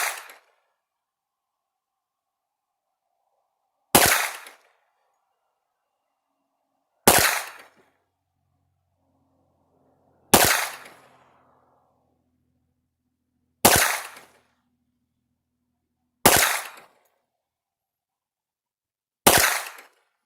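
Seven sharp, loud shots from a Colt 1911 pistol ring out at a shooting range, spaced a few seconds apart, each with a short decaying tail and no talking between them.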